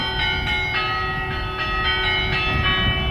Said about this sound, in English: whenever the bells ring, a microphone in the bell tower is